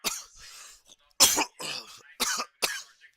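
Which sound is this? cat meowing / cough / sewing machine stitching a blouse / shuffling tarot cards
cough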